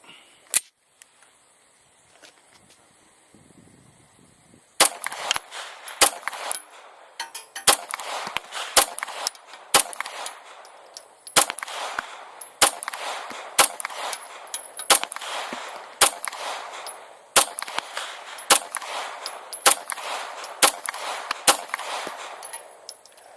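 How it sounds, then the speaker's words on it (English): A full magazine of hollow point rounds fired at an outdoor range, sharp loud shots in a steady, roughly regular series after a quiet start, with a few faint clicks before the firing begins. "we're going to do one more magazine of the hollow points"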